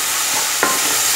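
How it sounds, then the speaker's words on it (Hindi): A spoon stirs chicken chilli through red chilli sauce and soy sauce in a hot pan, with one quick scrape over a loud, steady sizzle. "अब इसे अच्छी तरह से मिक्स करेंगे"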